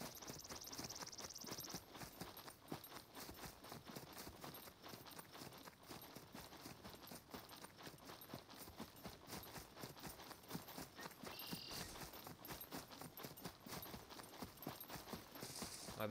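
Horse hooves clip-clop in the survival video game SCUM, a quick, continuous rhythm of hoofbeats as the horse moves steadily along, fairly faint throughout.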